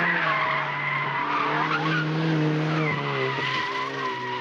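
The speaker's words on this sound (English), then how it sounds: "Lift oversteer and just come into a corner with an abrupt lift and that back end just drags around for you." A Ford ST hot hatchback on a track slides in lift oversteer, tires squealing loudly and continuously over the engine's sustained note as the back end drags around a corner.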